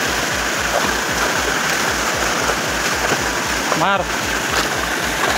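The ChaulaBhuja waterfall in Mayurbhanj pours in a steady, dense rush of water that fills the scene, while a voice speaks briefly over it.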